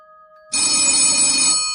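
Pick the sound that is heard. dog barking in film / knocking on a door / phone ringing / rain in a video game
phone ringing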